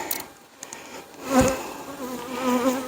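Bees hum steadily around an opened honey bee hive while frames are checked, a dense close buzz with rising and falling swells and no talking.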